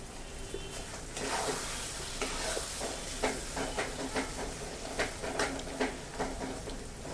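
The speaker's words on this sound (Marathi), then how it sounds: "ह्याच्यामध्ये छान मस्तपैकी परतून घेऊया" Amla mixture for homemade chyawanprash being sautéed in a pan gives a steady hiss and sizzle, with repeated soft scraping stirs and light taps of the spatula, close up and quiet.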